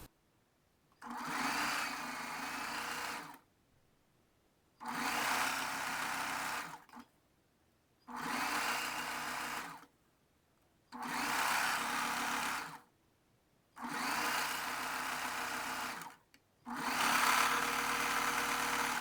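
A sewing machine runs in six even bursts of a few seconds each, separated by short pauses, while stitching a second seam to attach elastic on a bra.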